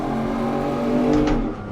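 A Jaguar XJS engine revs loud and close in a brief burst, the note swelling slightly before settling, with no voices over it.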